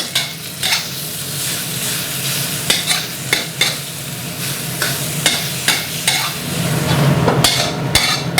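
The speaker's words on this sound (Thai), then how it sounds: "เป็นเนื้อหมูบดนะครับ ที่เราเตรียมเอาไว้นะครับ เอาลงมาคั่วหรือว่าลวนนะครับจนสุกนะครับ" Minced pork being stir-fried until cooked for a Thai roasted chilli dip with fermented fish, with steady sizzling and repeated scrapes and clacks of a spatula against the pan, close and clear, no talking.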